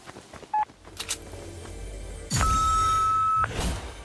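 Phone call being dialed in Fortnite: a short beep, then a long steady electronic ringing tone lasting about a second, with faint background ambience before and after.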